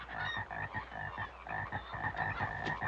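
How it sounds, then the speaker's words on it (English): A frog's ribbit sound effect, dubbed over shots of toads in a film, repeats as a steady, rhythmic croaking chorus that runs without a break. It is moderately loud, with no voices. "the vast majority of these shots are of toads with just a frog's ribbit"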